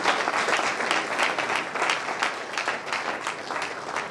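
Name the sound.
audience applause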